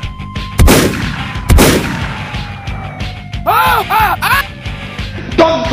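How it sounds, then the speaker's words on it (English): Two heavy, booming shotgun blasts from the video game Free Fire ring out close and loud about a second apart, followed by whooping electronic effects and yelling voices. "Shotgun!"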